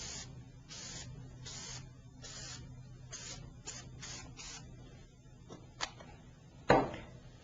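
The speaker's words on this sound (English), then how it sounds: "this is a lace spray. Always spray out to the side." Short bursts of 3M Blue 72 lace adhesive spray hiss from a nearby aerosol can, several quick puffs in an irregular rhythm, followed by a few faint clicks and a sharper knock near the end.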